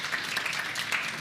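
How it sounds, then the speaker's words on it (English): Brief burst of audience applause at a technology conference session, a dense, moderately distant patter of clapping from a seated crowd lasting only a moment. "So round of applause."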